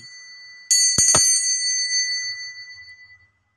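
A single bright bell rings out with a sharp metallic strike, its tone lingering and slowly fading over a couple of seconds against a quiet background.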